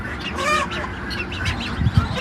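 Young ducklings on a farm peep and chirp in a steady chorus close by, with a few low thumps near the end.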